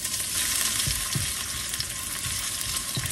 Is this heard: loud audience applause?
no